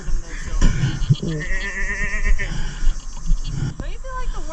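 Goats on a beach in Bozburun, Turkey, give wavering, nasal bleats at close range, mixed with people chatting and a few knocks and rustles.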